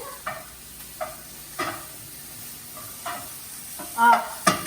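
Onions, shallots and mushrooms frying in a pan, a low steady sizzle broken by occasional stirring scrapes and clinks, with a brief louder clatter near the end.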